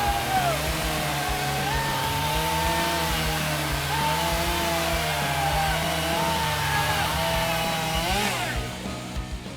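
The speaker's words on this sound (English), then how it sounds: "In the M18 Fuel top handle chainsaw, we are able to outperform in speed of cut the leading gas top handle chainsaw" A Milwaukee M18 Fuel battery top-handle chainsaw cuts steadily, its motor whining loud and close with wavering pitch as the chain bites, then spinning down at the end.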